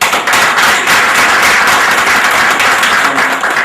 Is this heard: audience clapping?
yes